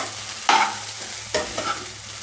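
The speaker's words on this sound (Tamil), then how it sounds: "நல்லா உப்பு எல்லா இடம் பரவுற மாதிரி நல்லா கிளறியாச்சு." Ragi semiya upma being stirred in a pan, with two distinct scraping strokes of a spoon against the pan and a faint sizzle under them, close up with no talking.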